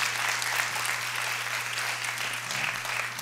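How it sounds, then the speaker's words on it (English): Lecture audience giving a speaker another round of applause, a full, continuous roar of clapping from a large room, even and sustained throughout with a low steady hum beneath. "So can we give Jennifer another round of applause, please?"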